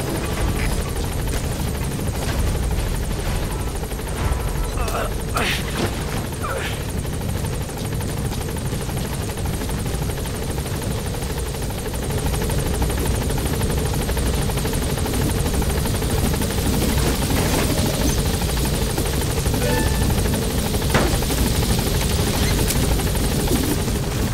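The Pequod helicopter from the video game Metal Gear Solid V hovers overhead, its rotor giving a loud, steady, unbroken drone throughout with a few faint clicks on top.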